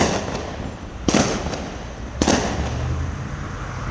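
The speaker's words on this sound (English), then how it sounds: "That right there, that was gunshots." Two sharp, loud bangs ring out outdoors about a second apart, each a sudden crack with a brief echo, over a steady background hum.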